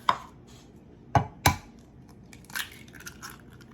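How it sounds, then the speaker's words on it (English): An egg is cracked and dropped onto whole milk ricotta in a bowl, giving a few sharp close knocks followed by softer, faint wet sounds. "To this I'm going to add 1 egg."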